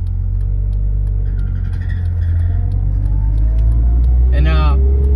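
A manual-transmission car pulling away in first gear hums with a steady low engine rumble that builds slightly, close and continuous, while a person talks over it.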